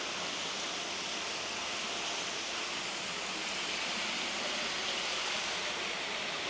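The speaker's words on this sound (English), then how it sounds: "pool with the waterfall, which is pretty neat" A backyard pool waterfall splashes in a steady, even rush of falling water, continuous and moderately distant, with no voices.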